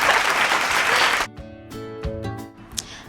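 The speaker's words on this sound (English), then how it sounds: "So let's clap for me then." Dense, loud applause fills the first second or so, then cuts off abruptly, leaving quiet scattered sounds and faint musical tones.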